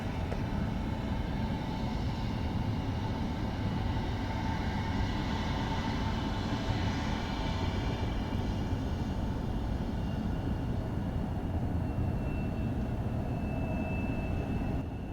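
A jet airliner taking off from runway 27 at San Diego airport, producing a loud, steady broadband engine roar that holds for the whole stretch, with a faint high whine rising near the end and no voices.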